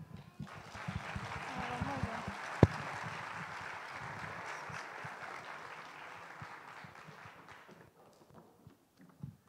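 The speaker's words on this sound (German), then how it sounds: "Ein Applaus bitte." An audience at a Christmas music concert claps steadily for several seconds, a dense sustained applause that thins out and fades toward the end.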